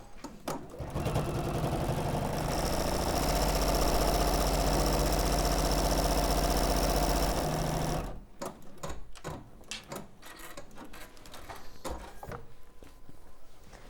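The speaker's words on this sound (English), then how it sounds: "Hold it and sew along that line." A sewing machine runs fast and steadily, stitching along a seam line for about eight seconds, then stops, leaving scattered handling clicks and rustles.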